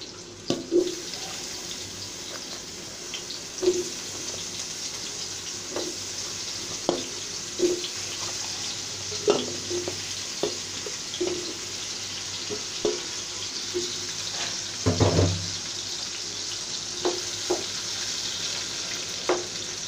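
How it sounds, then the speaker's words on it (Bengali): Eggplant pieces frying in hot oil in a pan give a steady, close hiss, with periodic soft clinks and stirring knocks and one louder clatter midway, all without speech. "আমি এখন এই বেগুনগুলো দিয়ে দিব ভাজার জন্য"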